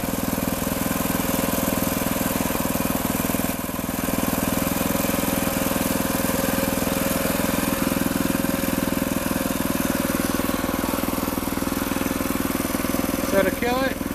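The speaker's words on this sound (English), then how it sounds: "smooth running little engine" A Predator 6.6 HP 224cc horizontal shaft gas engine runs steadily at a constant idle, a close, even, unbroken drone that holds level for the whole stretch.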